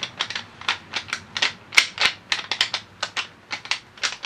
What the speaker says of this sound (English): I was using this bag up against a tree and doing some grunting and doing estrus